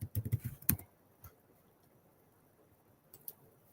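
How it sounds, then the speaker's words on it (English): Computer keyboard typing, a quick cluster of keystrokes at the start followed by a lone click and a few more taps near the end, close and fairly quiet. "So I am going to type again"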